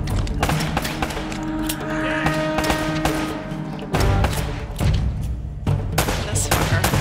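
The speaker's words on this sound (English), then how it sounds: "I love this shotgun." Shotgun blasts and other gunfire ring out in a firefight in Uncharted: Drake's Fortune, loud irregular bursts and thumps in quick succession over a rumbling backdrop, with occasional voices.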